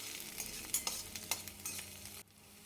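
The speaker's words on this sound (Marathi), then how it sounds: "हिरवी मिरची छान परतल्यानंतर जाड लाल मिरचीचे तिखट टाकून घेत आहे" Green chillies and coarse red chilli powder sizzle in hot oil while being stirred for ambadyachi bhaji, a steady close frying hiss with a few stirring scrapes, cutting out near the end.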